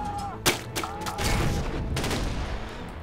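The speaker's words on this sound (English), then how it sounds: "We're going to use the artillery to do a little cleanup here." Artillery fire in the Command and Conquer video game: a sharp blast near the half-second mark, then several more quick booming shots over a dense, continuous battle din.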